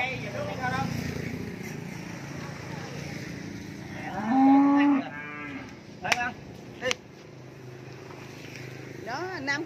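Cattle being loaded onto a truck at a cattle farm let out a loud, drawn-out moo midway, followed by shorter clatters and another low call near the end, with people talking and handling noise throughout.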